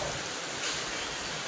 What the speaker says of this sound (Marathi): पाऊस तर खूप जोरात पडतोय